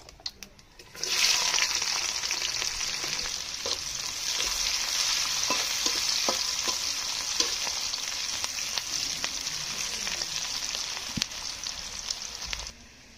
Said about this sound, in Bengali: কেটে রাখা পেঁয়াজ রসুন কুচিটা তেলের উপরে দিয়ে দেবো।